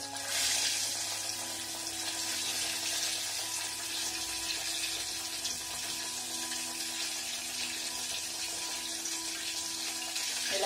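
Flour-coated bread slices for torrijas fry in moderately hot oil, giving a steady, even sizzling hiss that runs unbroken from start to finish with no voices.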